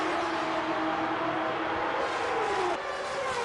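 Formula E race cars, including a Porsche and a Jaguar, speeding down the straight at the Diriyah E-Prix, a continuous high electric whine with shifting pitch and a sudden drop as one car passes.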